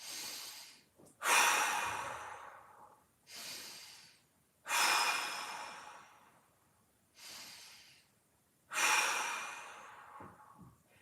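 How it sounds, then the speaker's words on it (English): Three big, slow breaths taken during a mobility workout, each a loud, close, airy inhale and exhale with short gaps of silence between, alone with no talk. "And right there, we breathe 3 big breaths."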